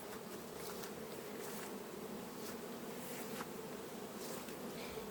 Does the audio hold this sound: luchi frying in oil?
no